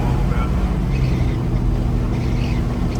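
Steady rumbling wind and road roar fills the cab of a 1975 GMC Jimmy Custom while driving, with its loosely sealed old top, a constant close drone with no break.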